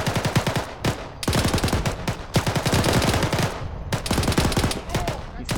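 Loud, close rifle and machine-gun fire during a military field training exercise, sounding as rapid bursts and sustained rattling volleys separated by brief pauses, with no talking.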